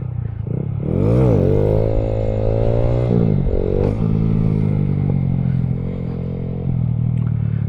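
A 2015 Honda Grom motorcycle engine revs hard during wheelie practice, its pitch sweeping up and down with throttle blips over a steady, loud, close rumble.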